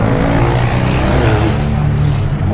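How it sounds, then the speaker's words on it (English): Several Honda Formula 4 race cars pull out onto a circuit track in Pattaya, Thailand, their engines droning loudly and steadily together throughout, close by and continuous. "All these Honda race cars going out. Noisy bastards."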